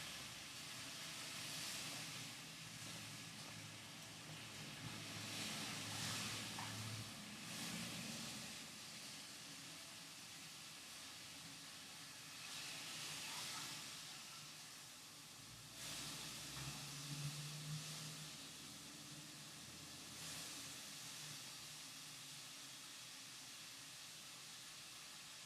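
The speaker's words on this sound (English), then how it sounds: "I'm going to go ahead and flip that bacon" Bacon sizzles steadily on a hot griddle, a continuous broad hiss that swells and eases as the strips are flipped, with no talking.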